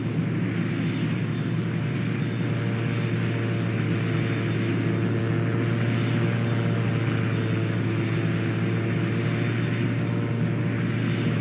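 A-40 airplane in Roblox Pilot Training Flight Simulator gives a steady, loud engine drone with a low hum and broadband rush, constant throughout as it prepares to take off, with no talk over it.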